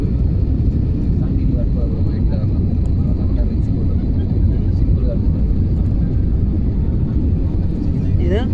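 Steady, loud airplane cabin roar from a plane descending on approach to Thiruvananthapuram airport, a constant broadband engine and air rumble heard close throughout.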